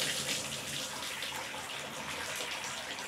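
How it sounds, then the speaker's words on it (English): A weak trickle of water runs from a tap in a home plumbing system with poor flow, producing a quiet, steady, faintly gurgling hiss with no talk. "A little bit of water coming out."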